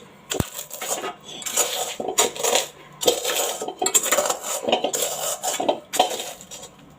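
Fried edible gum being crushed coarsely with a stone batta pestle for atta ladoos, giving repeated gritty grinding and crunching strokes in irregular bursts, close and moderately loud, with no talking.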